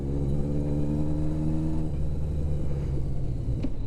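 A cold Yamaha XS1100 motorcycle idles with a steady low rumble, the engine note shifting as the clutch is pulled and a gear is clicked in partway through, with a faint click near the end.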